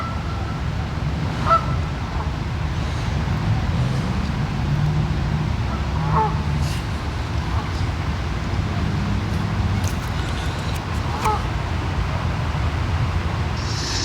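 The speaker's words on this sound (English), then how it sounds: "And this is the other one, the black beak swan." Black-beaked swans calling at a lake, with scattered honks rising above steady low outdoor rumble and distant ambient noise.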